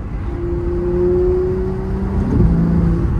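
Ferrari 812 V12 engine revving through downshifts, a steady rising and falling engine tone that ends in a short sharp blip near the end. The engine sounds fairly close and loud, and no one speaks.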